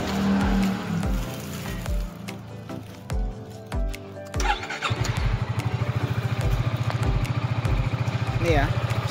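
A Yamaha XMAX scooter, stalled after rodents chewed its wiring, cranks with several stuttering starter pulses amid people talking, then catches and settles into a steady, rapid idle close by.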